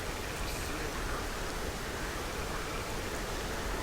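Heavy rain pours down in the video game Stalker Clear Sky, a dense, unbroken wash of hiss that holds steady throughout with no voices.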